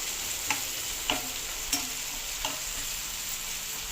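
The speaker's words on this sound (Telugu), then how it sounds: "ఇలా 2 నిమిషాలు నూనెలో వేగనిచ్చి ఉల్లిపాయలు, పచ్చిమిరపకాయలు" Onions and green chillies sizzle in oil, a steady close frying hiss with four or five distinct spatula scrapes against the pan at regular intervals, and nobody speaks.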